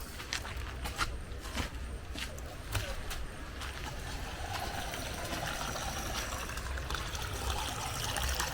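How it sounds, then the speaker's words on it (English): Popcorn kernels rinsed under running water in a home kitchen, a steady close trickle and splash with occasional clicks and knocks throughout. "So we are going to rinse the popcorn first."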